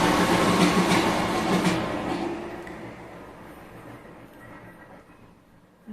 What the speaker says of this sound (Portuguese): tava esperando o metrô passar